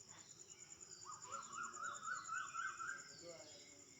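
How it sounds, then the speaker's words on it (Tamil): Small birds calling near a temple before dawn, a quick run of chirping notes over a steady high insect drone and soft background hum, fairly faint and distant. "அதோட இந்த குருவி பறவை எல்லாமே கத்திட்டு இருக்குமா"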